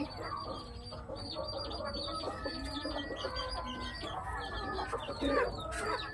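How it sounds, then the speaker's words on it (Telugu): Native chickens on a poultry farm cluck steadily and overlapping, with some chirping from chicks and birds, close and continuous throughout. "ఇక్కడ కొన్ని కోళ్ళు ఉన్నాయి ఇదంతా కోళ్ళ ఫారం అనమాట"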